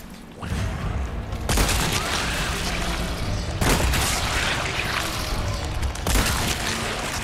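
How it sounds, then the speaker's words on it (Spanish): Loud, heavy gunfire in the video game Resident Evil 4 Remake, Separate Ways DLC, with booming shots and a constant rumbling background, a few distinct blasts standing out over the din. "Tres disparos acertados."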